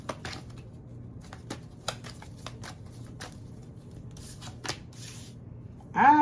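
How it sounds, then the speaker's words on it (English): A deck of tarot cards is shuffled up close, producing soft riffling and repeated crisp flicks and taps over a quiet background for several seconds. "I'm really shuffling the deck"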